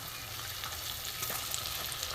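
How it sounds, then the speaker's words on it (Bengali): Ash gourd chops fry in oil on a low flame, giving a soft, steady hiss with scattered faint crackles and no voices. "গ্যাস কমিয়ে লো ফ্লেমে আমি চাল কুমড়োগুলো ভেজে নেবো।"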